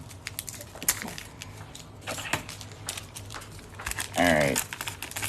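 Hockey card pack wrapper crinkled and torn open, close irregular crackles and snaps with a brief louder rip, while a person speaks over part of it.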